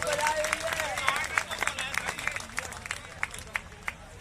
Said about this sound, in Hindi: इनके लिए ताली बजाओ वही होगा।